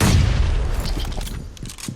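A bomb explodes in the PUBG video game, a loud booming blast at the start that rumbles and fades over two seconds, with scattered crackling game noise after it.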